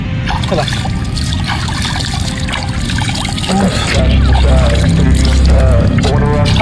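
Cold water trickling and splashing at an outdoor waterfall, a steady near rush of flowing water running throughout, with people chatting and calling out over it.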